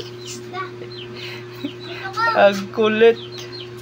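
Small chickens clucking and squawking close by, with a few soft calls building into two louder bursts near the end, over a steady low electrical hum while a person speaks briefly.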